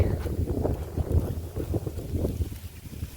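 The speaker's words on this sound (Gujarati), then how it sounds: "પવને બહુ છે." Strong wind buffets the microphone in low, rumbling gusts that rise and fall continuously, with no voices.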